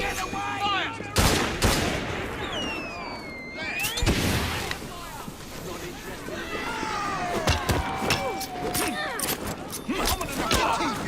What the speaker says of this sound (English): Pistols at the ready! Fire!